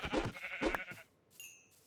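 Sheep in the Minecraft video game bleating, with two short bleats close together followed by a thin, high electronic game tone, fairly quiet, with no talking.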